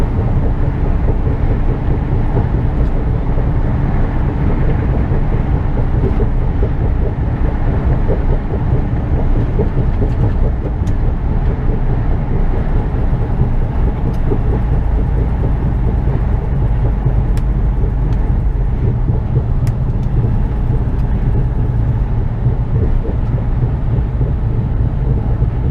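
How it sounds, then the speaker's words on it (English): An HGV trailer rattles while driving on the road, a continuous loud rumble of the moving truck with faint clicks and knocks running through it and no talking. "Some rattles on this trailer."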